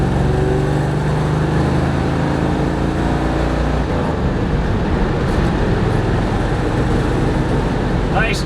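A 1970 Chevelle SS 454 convertible with a Tremec TKX five-speed gearbox cruises steadily, its loud continuous engine and road rumble filling the whole stretch with no clear gear changes.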